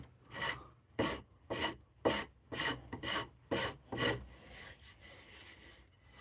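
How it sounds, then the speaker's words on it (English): Sandpaper rubs back and forth across an object in about eight distinct rasping strokes, close and fairly quiet, followed by a softer, steadier scrubbing at the end. "So we'll do the unthinkable and get some sandpaper on it."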